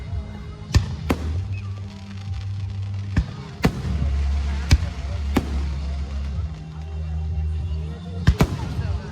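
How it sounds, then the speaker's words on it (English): Fireworks show in Arthur, Illinois bursting in a string of sharp, loud booms and crackles at an uneven pace, with a low rumbling roar between blasts and people talking and cheering nearby. "Dude, most lit fireworks show ever."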